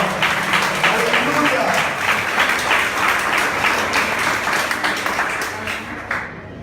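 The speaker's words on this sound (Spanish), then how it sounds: "Denle un aplauso al Señor." A church congregation at a Sunday family service in Boston applauds loudly and steadily, dense clapping filling the room throughout, with a voice calling out over it before the clapping tapers slightly at the end.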